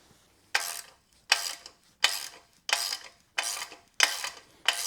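A ratchet cranks a long bolt to press a bronze swingarm bushing into a Honda Grom or Monkey, giving seven evenly spaced ratcheting bursts, each a sharp clicking sweep followed by a pause, close and fairly loud with no talking.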